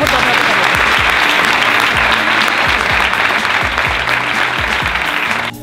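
Audience applause at a Spanish gathering of a team and friends, loud sustained clapping filling the space with voices cheering underneath and whoops mixed in, continuing throughout before tapering slightly at the end.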